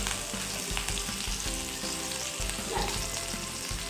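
Green chili and ginger sizzle in hot oil with cumin seeds, a steady loud crackling hiss broken by occasional stirring scrapes, heard alone with no voices.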